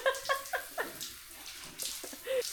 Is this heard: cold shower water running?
yes